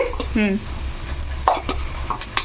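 Ginger paste sizzles as it fries and is stirred in a hot pan for a veg keema curry, with steady frying hiss, scraping stirs and a brief voice in the background.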